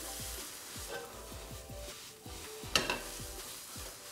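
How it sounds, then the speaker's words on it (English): A stir-fry with a glug of oyster sauce sizzles over maximum heat in a Chinese takeaway-style wok, with a steady frying hiss. A utensil scrapes and stirs in a run of repeated strokes, and one sharper clatter lands near the end. "And give this a stir."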